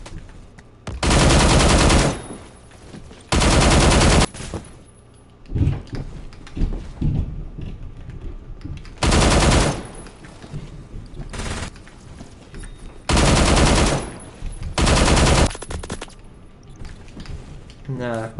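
Automatic weapon fire from hip firing in the shooter game Phantom Forces, loud bursts of about a second or more repeating several times, with quieter clatter and a voice talking between them.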